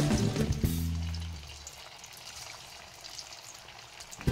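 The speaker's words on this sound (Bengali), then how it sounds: "এর মধ্যে আমি সাবুদানাগুলোকে একটা একটা করে ছেড়ে দেব।" Sabudana pakoda balls dropped into hot oil in a kadai, giving a close crackling, hissing fry after an initial splash, settling into a steady soft sizzle with no talking.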